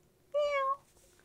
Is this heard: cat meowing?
yes